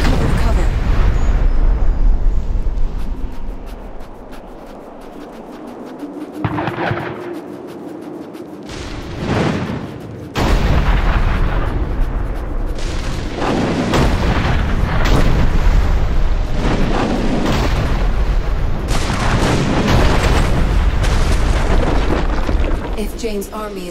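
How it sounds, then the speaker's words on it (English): Gunfire and artillery-like booms from Azunite gunners in the video game Dungeon Siege III, loud repeated blasts and bursts in an ongoing battle, with a voice speaking over the din. "Azunite gunners have us in their sights."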